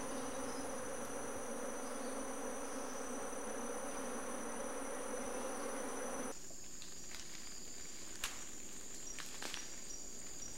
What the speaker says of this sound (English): At dusk, the forest is filled with the sounds of emperor cicadas and breaking branches.